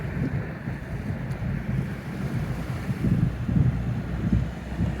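Outdoor water heard up close, a continuous soft rushing and lapping wash with some wind buffeting the microphone, no voices.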